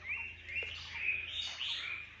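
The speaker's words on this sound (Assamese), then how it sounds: "কিমান চৰাই আছে" Small birds chirp and twitter in fairly quiet, continuous overlapping calls throughout, with no talking.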